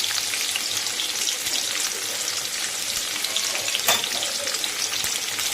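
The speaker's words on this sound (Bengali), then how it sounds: "যে আলুগুলো ছেড়ে দিয়েছি আলুগুলো ভাজা হচ্ছে" Steady, crackling sizzle of potatoes frying in hot oil, close and continuous, with no talking.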